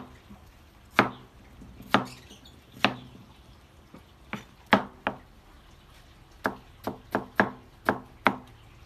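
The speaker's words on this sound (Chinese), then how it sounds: "现在我们就把它全部给剁碎、剁匀了" A cleaver chops food finely into mince on a board, with about fourteen sharp, close knocks in an uneven rhythm, some spaced and some in quick bursts, over a quiet background.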